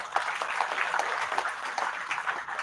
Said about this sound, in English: Please, can we have a big round of applause for Madam as well?